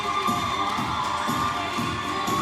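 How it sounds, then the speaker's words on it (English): New Zealand fans screaming and cheering at a rugby league match between New Zealand and Great Britain, a steady dense crowd roar with high shrill shrieks swelling throughout, heard from a distance in a large stadium. "The screams you can hear are the New Zealand fans."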